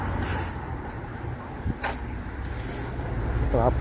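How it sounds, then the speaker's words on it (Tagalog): Street traffic in Riyadh rumbles steadily nearby, with passing vehicles and a brief whoosh or hiss partway through. "Traffic yung pala dito."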